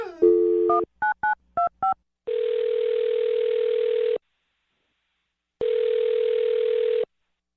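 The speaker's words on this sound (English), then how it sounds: "I'm going to dial her phone number right now." Telephone handset sounds: a short tone, then a quick series of dialing beeps, followed by two long steady ringback tones separated by a silent gap, clear and close with no voices.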